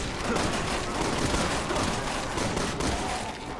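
Rapid, sustained gunfire from the video game Resident Evil 6 crackles as a dense, continuous fusillade of shots. The volume stays fairly steady throughout and dips slightly at the end.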